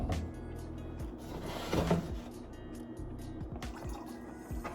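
Liquid plant fertilizer drips from a cap into a container, a quiet trickle and splash that swells briefly mid-way against a soft background, with no talking.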